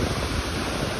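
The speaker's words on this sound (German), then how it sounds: "es tost hier runter von der Felswand hier im Tianjin-Gebirge" Water roars down a rock face in the Tianjin mountains of Kyrgyzstan, a steady, dense, close rushing noise that fills the whole clip with no break.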